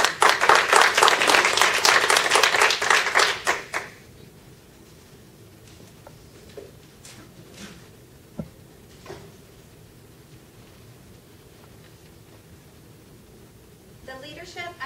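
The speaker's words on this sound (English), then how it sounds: "please welcome with a great applause Colleen Siadak for a 10 to 15 minute speech." Audience applause welcoming a speaker at a Toastmasters club meeting, a dense burst of many hands clapping for about four seconds that stops abruptly, leaving a quiet room with a few faint knocks and rustles.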